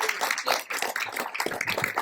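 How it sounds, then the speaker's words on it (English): A convention audience at a Birmingham Comic Con stage panel applauds, dense overlapping hand claps filling the hall steadily for a couple of seconds with no voices over them. "Can we get them a round of applause please?"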